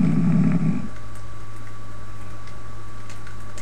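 A person snoring loudly over a Skype call lets out one droning, buzzy snore that fades after under a second, followed by a steady hum of background line noise.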